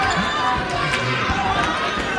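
A home crowd at an Orange men's basketball game applauds a player checking in. The cheering and clapping are steady and close, with occasional court squeaks and taps mixed in.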